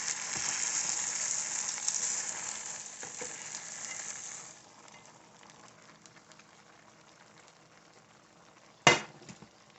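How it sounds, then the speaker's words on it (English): Meat hisses loudly as it goes into a chili pot. The sizzle fades after a few seconds into quiet bubbling, and then a sharp metallic clank is heard. "We're going to add the meat to the chili pot."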